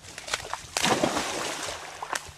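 A five-month-old English Springer Spaniel pup splashes through water on a gundog retrieve, with steady sloshing and a couple of sharper splash bursts at close range and no talking.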